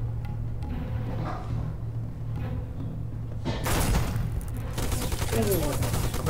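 Magnum pistol shots in a PS2 shooter played through an emulator, sharp reports rising over a steady hum of game music and noise, with a burst of louder cracks in the second half.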